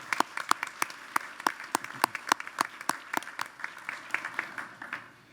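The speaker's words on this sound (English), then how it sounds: "please join me in another round of applause for Dr. Cottrell." Light, scattered applause from a modest audience at a college commencement ceremony, individual claps distinct and steady for several seconds before thinning out at the end.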